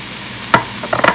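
A spoon stirs sweet and smoked paprika into chicken chili in a pot, giving a few short scraping clinks over a low, steady simmering sizzle.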